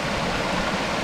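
A waterfall beside a wilderness hiking trail in Maine's 100 Mile Wilderness rushes in a steady, broadband wash, close and even throughout with no voices.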